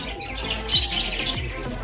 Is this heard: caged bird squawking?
yes